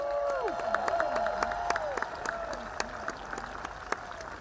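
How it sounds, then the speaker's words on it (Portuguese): Crowd outside Buckingham Palace in London applauds the arrival of Queen Elizabeth II's coffin, steady distant clapping and cheering sustained throughout with sharp individual claps poking through, while tonal whistles or sirens glide overhead. "Uma multidão aplaudiu a chegada do caixão."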